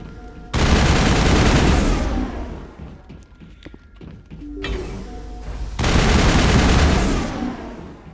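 Gunfire in the video game Mass Effect: loud sustained bursts of rapid shooting, a first stretch of about a second and a half, then quieter scattered shots and impacts before a second heavy burst.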